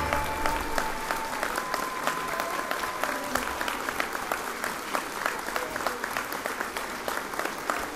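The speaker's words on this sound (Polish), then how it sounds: "Brawa." A folk music education finale audience claps for a young performer, a sustained, even round of applause with distinct individual claps, while a faint tone lingers beneath early on.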